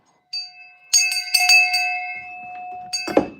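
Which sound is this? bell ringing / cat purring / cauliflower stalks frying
bell ringing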